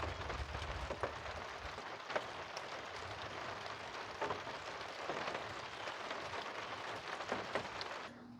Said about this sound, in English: It's been a long, wet, rainy day.